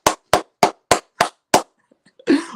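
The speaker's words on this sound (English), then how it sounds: "Let me hear that hand clap" Six sharp, evenly spaced hand claps ring out loud and close in a steady rhythm, followed by a brief pause and a short burst of voice.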